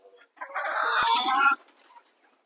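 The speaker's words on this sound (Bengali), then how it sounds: "মুরগিগুলো খুব ভয় পাচ্ছে" A short burst of agitated, squawking chicken clucks, loud and close, cutting off abruptly with a few faint clucks after.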